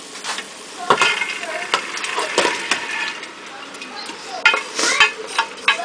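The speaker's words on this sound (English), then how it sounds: "And I'm just stirring it around real quick so I can mix some of it together." Black-eyed peas are stirred around in a pot with a spoon, making irregular scraping and clattering strokes close by, with some talk heard in the background.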